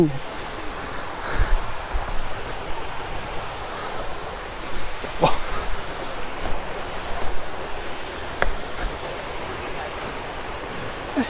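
Steady broadband rush of water at a remote, hidden waterfall in Coorg, continuous and fairly loud, with light wind buffeting and faint voices in the background.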